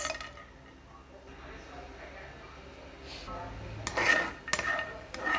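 Peanuts tossed in about half a tablespoon of oil in a pan for roasting scrape and clink against the metal, quiet at first and then louder, with a couple of sharper rattles near the end.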